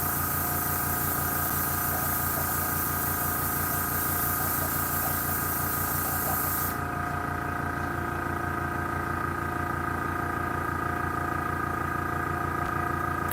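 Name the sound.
airbrush with big needle spraying olive drab primer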